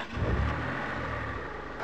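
Racing cars in a ten-car race roar with engines revving, loud and continuous for about two seconds, with no talking.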